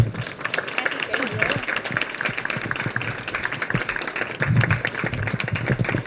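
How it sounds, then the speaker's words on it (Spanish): An audience claps continuously, a dense patter of many hands, with voices mixed in underneath. "te volvemos a aplaudir"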